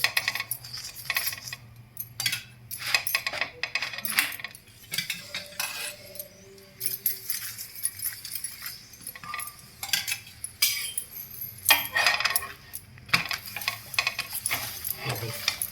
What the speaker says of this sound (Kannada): ನೋಡಿ ಹೀಗೆ ಸುಡ್ತಾ ಇದ್ದೀನಿ